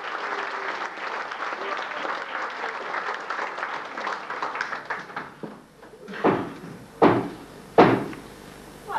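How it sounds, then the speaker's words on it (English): Heavy knocks on a stage door during a Christmas pantomime of Cinderella: three loud, evenly spaced thuds ring out right after a long burst of audience applause dies down. "there's a loud knock at the door"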